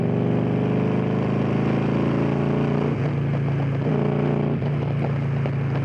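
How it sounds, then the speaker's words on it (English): Engine of a Victory Cross Country touring motorcycle runs steadily and loudly, with a deep low rumble that dips briefly around three and four and a half seconds as the revs shift. "it just revved when I pulled the clutch in"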